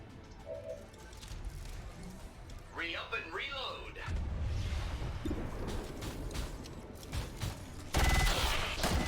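Rapid bursts of gunfire and crashing impacts from the tactical video game XCOM 2, loud and clustered near the end, with someone talking over much of it.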